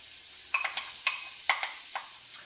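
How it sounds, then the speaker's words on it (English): One diced onion cooking in butter over medium-high heat: soft sizzle broken by scattered crackles and little pops, close up and fairly quiet. "we're going to start to cook down some onions"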